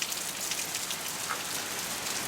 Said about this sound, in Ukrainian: Ливень такий, що не справляється алюміока, бачите?